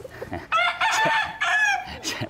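A rooster crows close by in a few drawn-out, strained calls, with clucking and faint background noise between them.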